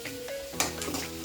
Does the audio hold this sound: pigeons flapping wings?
no